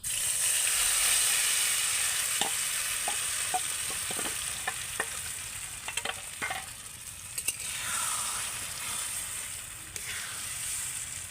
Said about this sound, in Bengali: এবার আমি এইভাবে নেড়ে চেড়ে আলুর এই মিশ্রণটাকে একটা দইয়ের মতো করে তৈরি করে নেবো